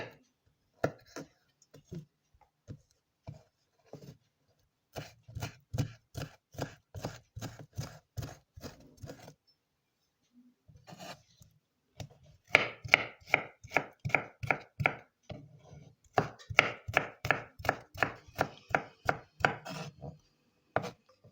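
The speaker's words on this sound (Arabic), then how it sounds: "هلا بدنا نفرم لها بعد راسين" A knife chops tomatoes on a board for a Lebanese shanklish salad, sharp close knocks arriving in quick rhythmic bursts separated by short pauses, with no talking.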